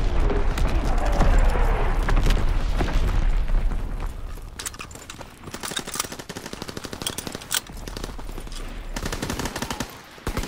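Loud, heavy primary-battery artillery fire in Call of Duty: WWII opens with deep booming blasts, followed by dense rapid explosions and gunfire rattling throughout.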